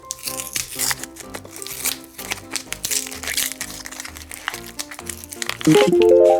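A yellow toy surprise box package is unwrapped close up with busy crinkling and crackling of plastic and cardboard in irregular bursts. A brief ringing tone sounds at the end.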